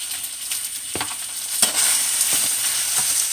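Spinach tossed in a hot buttered pan with lemon pepper and garlic, a steady close sizzle broken by a few soft scraping knocks as the leaves are turned.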